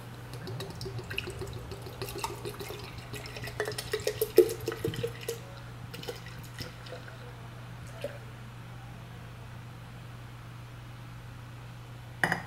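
Black Swan India Pale Ale poured into a big glass, with soft splashing and glugging close by over several seconds that fade to quiet fizzing, then a brief clink at the end.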